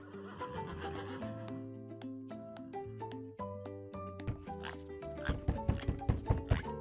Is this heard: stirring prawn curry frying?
no